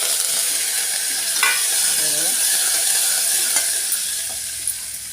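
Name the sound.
garlic and curry leaves stirred and frying for sambar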